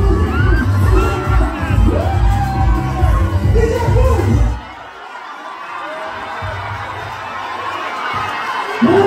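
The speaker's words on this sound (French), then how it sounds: "Les enfants l'applaudissent là." Children in a concert audience at a show in Nantes shout and cheer loudly together for several seconds, a dense crowd roar with whoops that then drops away to quieter chatter.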